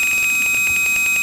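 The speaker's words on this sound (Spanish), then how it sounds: "nuestro piezo va a simular ser un buzzer que va a estar ahí constantemente hasta que se apague" A piezo buzzer alarm in a Tinkercad Arduino motion-detector simulation sounds a steady, shrill electronic tone with a rapid pulsing flutter, loud and continuous throughout.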